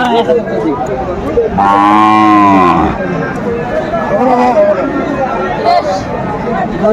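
Sahiwal bulls at a Dhaka cattle market, with one loud, drawn-out moo in the middle of the clip over constant crowd chatter and haggling voices.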